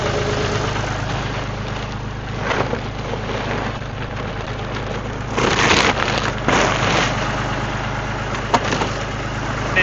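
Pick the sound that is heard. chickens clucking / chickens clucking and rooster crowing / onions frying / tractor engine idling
tractor engine idling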